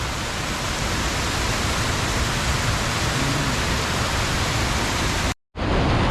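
Aliwagwag waterfall in Cateel, Davao Oriental, roars as a steady, loud broadband rush of falling water, unbroken until a brief dropout near the end.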